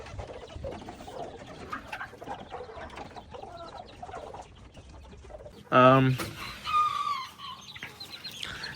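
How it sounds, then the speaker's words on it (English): Pumpkin and wheaten pullets, with a couple of cockerels among them, cluck and call in a coop. Soft murmuring gives way to a sudden loud, close squawk, then further clucking, with a brief word spoken over the birds. "over here we have a bunch of pullets, and I think just a couple cockerels in here"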